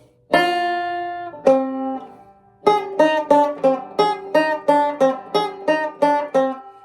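A guitar plucks a short riff: a couple of ringing single notes, a pause, then a steady run of about a dozen evenly spaced picked notes, clear and close.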